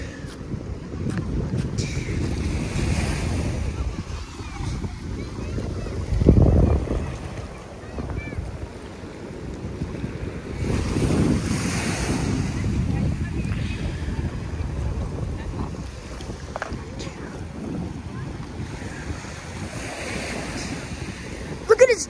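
Ocean waves surge and break on the beach at Avon by the Sea while strong wind buffets the microphone, rolling swells rising and falling in steady waves across the whole stretch.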